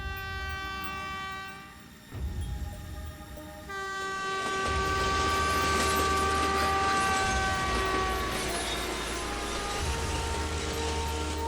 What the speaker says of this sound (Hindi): कावेरी एक्सप्रेस पास हुई।